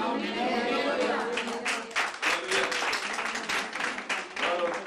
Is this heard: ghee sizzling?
no